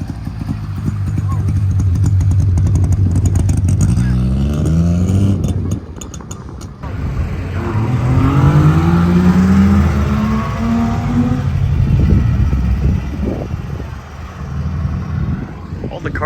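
Several Saab cars at the 2023 Saab Owners' Convention drive past one after another, engines rising and falling in pitch as they pass close and loud, with brief talk nearby.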